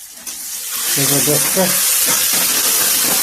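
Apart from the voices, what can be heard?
sizzling of spices in hot oil for village-style tempering (phodni)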